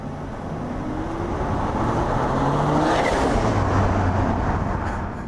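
A Jaguar XJ220 with a twin-turbo engine accelerates hard, its engine note climbing through rising sweeps under a dense roar of wind and road noise that builds steadily before easing slightly at the end.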